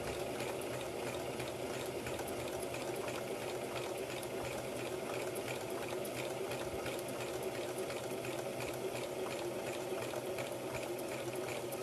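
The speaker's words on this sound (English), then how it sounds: "I'm just going to sew forward a couple of stitches, and then I'll back up" A sewing machine stitches around a fabric bowl cover, its steady rapid needle rattle running continuously and close throughout with no pauses or voices.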